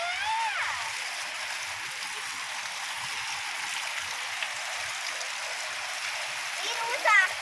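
Steady rain pours down with broadband water rush, like a full gutter overflowing, a continuous splashing wash throughout with a brief louder splash near the end.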